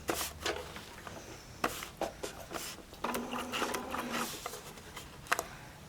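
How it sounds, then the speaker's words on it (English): Quick bursts of rapid mechanical whirring and clicking, starting and stopping, as a sewing machine with an open-toe foot stitches a sampler in short runs, fairly close. "come over to the sewing machine, and again, we're going to start just outside of the line"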